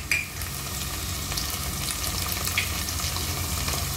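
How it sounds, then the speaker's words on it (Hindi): Onion, potatoes and curry leaves fry in a pan for a leftover-rice breakfast dish, giving a steady close sizzle with soft stirring scrapes and occasional sharper ticks throughout, with no talking. "अब हम आलू को भी इसमें फ्राई कर लेंगे।"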